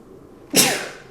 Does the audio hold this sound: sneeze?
yes